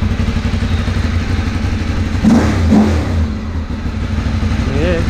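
A Ducati 848 motorcycle engine with no catalytic converter idles with a steady low rumble, then revs up sharply twice in quick bursts, close and loud, with a voice briefly speaking over it.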